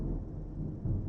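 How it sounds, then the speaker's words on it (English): Thunder from a storm rolls low and steady for about a second, a deep, distant-sounding rumble with no voices over it. "did you hear that thunder?"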